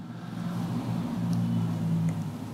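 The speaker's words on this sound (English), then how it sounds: "There's trucks outside the window right now." Trucks pass outside a window of a boxing gym, giving a steady low engine rumble and road noise that swells and holds through the moment, muffled and mid-distance.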